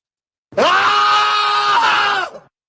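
A single voice lets out a long, loud, harsh primal scream, held for about two seconds and then trailing off, alone and close.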